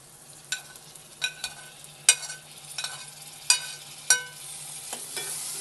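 Tomatoes sautéing with ginger-garlic paste in a pan for Andhra-style mutton liver gravy, a series of crisp spatula scrapes and taps over a low sizzle, close and rhythmic.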